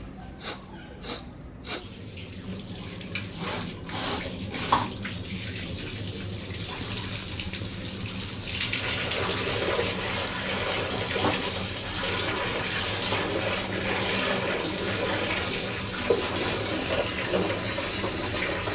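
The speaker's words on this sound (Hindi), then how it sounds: "चिकन जो है अच्छे तरीके से धुलाई हो रहा है" Raw chicken being washed under a running kitchen tap, a steady loud stream of water splashing into a sink with a few knocks and clatters at the start.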